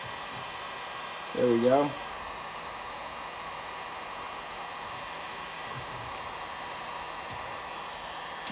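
A heat gun blows a steady, even airy hiss while warming car undercoating for removal, with someone speaking briefly over it.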